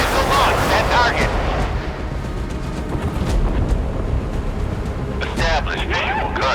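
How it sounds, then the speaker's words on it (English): Naval combat in Force of Warships: a missile launch and explosions make a continuous loud roar of blasts and booming fire, with radio-style voice callouts cutting in near the start and end. "Missile launch at target."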